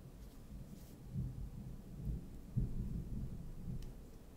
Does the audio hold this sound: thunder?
yes